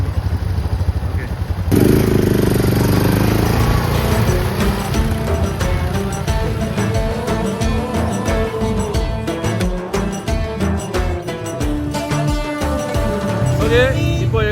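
ATV engines running on a Dubai desert safari, a rough motor drone with revving and clattering that starts abruptly and continues loudly throughout, with people talking over it.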